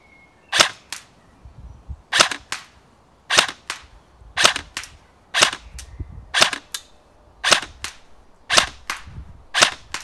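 An airsoft gun firing 0.28g BBs at a far target, sharp single cracks spaced roughly a second apart in an even rhythm, each followed by a faint smack, loud and close.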